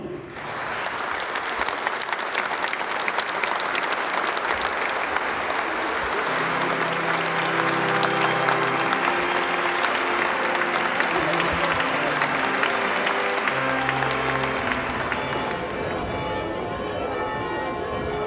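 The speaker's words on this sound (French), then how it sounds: "nous pouvons, je pense, les applaudir" An audience in Menton applauds musicians with loud, continuous clapping, while low tones from voices or instruments sound beneath it before the applause fades near the end.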